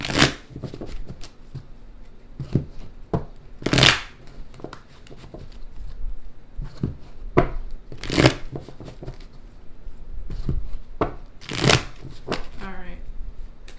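Tarot cards are shuffled over and over in quick riffling bursts, close and crisp, with soft handling noises in between.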